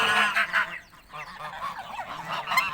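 A flock of farm geese honks loudly and continuously, with overlapping nasal calls close by and a brief lull midway.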